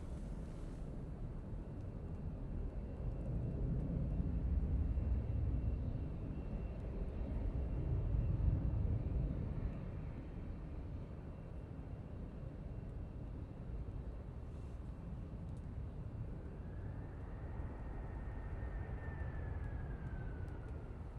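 Flight from Dublin landing at Manchester Airport, with a low, steady jet roar swelling and fading under gusty wind noise for about twenty seconds, and a faint rising whine near the end.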